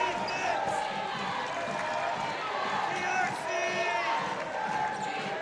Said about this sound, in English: the crowd has definitely woken up in the Mattamy Athletic Center